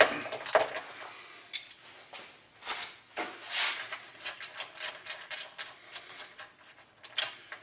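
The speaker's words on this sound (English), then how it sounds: "Take the bolt off." A bolt is worked loose on an 18-inch Highland Park rock saw during a repair: quiet, scattered metallic clicks and light taps of the tool against the fitting, close by, with no talking.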